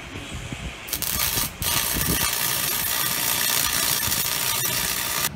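A Lincoln AC-225 stick welder runs a 3/32 inch 6011 rod at 90 amps, giving a loud, steady, close crackling sizzle. A short break comes early on, and then the arc carries on unbroken.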